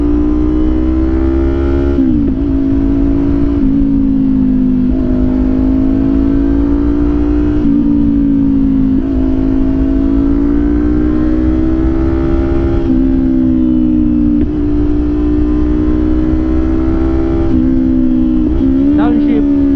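A Kawasaki Ninja 500 SE fitted with a replica SC Project exhaust drones loudly and steadily for about twenty seconds. The engine pitch rises, then dips at several points as the bike shifts through the gears.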